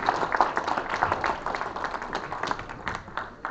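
Dense crowd applause fills a Tea Party patriots meeting as a candidate for Attorney General is introduced, many hands clapping steadily and loudly throughout without letting up.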